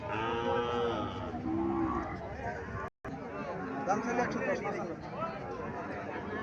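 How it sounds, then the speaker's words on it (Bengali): Sahiwal cattle and calves lowing and mooing amid a busy crowd of people talking at a cattle sale, with animal calls rising over the steady chatter. "এখানে আরও একটা বাছুর দেখা যাচ্ছে"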